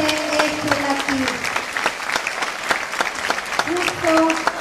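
Loud, steady applause from an audience at a municipal DIF activities report in San Miguel de Allende, with voices shouting or cheering over the clapping throughout.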